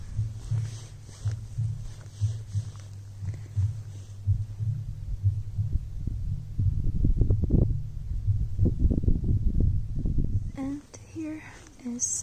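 A memorial metronome at the Salaspils Memorial near Riga ticks like a heartbeat in a steady run of soft, low thumps. The beats grow louder and blend into busier, rumbling outdoor noise toward the end.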